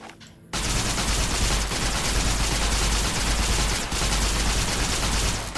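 A laser Tommy gun fires in Fallout New Vegas, a loud, unbroken automatic burst of rapid crackling shots that starts abruptly after a brief quiet moment and runs without pause to the end, with only short dips.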